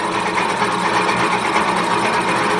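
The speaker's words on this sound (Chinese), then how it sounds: "然后第二步，打开主电机启动" The main motor of a floating fish feed pellet machine runs loud and close. It gives a steady, dense mechanical whirring drone with a fast buzzing texture that holds constant throughout, and no one speaks.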